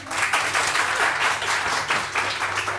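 Studio audience on a Pakistani TV morning show clapping steadily and loudly for a few seconds, a dense continuous wash of hands with no voices over it.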